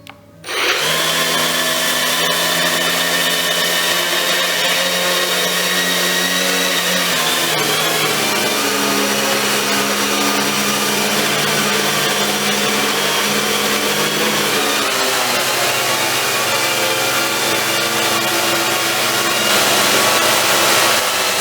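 Electric motors of a quad tilt-rotor eVTOL concept demonstrator running steadily, a loud continuous close-up whine with layered tonal hum that shifts pitch a couple of times as the throttle changes.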